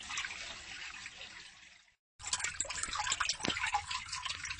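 A new water pump in a bed sends water splashing and gushing steadily, briefly cutting out, then restarting stronger with a busy, bubbling flow close by.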